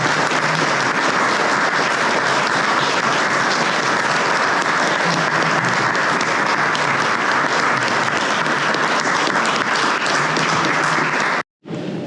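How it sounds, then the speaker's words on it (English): An audience at an English honors society induction ceremony claps in a long, dense, steady round of applause, loud and full, ending abruptly in a brief silence before a faint resumption. "Let's give a huge round of applause to the newest members of Sigma Tau Delta."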